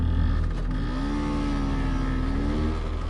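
Scooter engine revving hard in a continuous, steady drone with slight rises in pitch, fairly loud and heard alone without voices.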